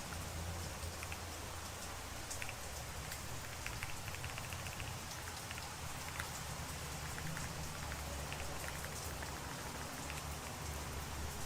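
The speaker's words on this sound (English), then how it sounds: "Oh, see the rain." Steady rain falls continuously on a rainy day, a dense even hiss with scattered drop patter, close and unbroken throughout, with no voices.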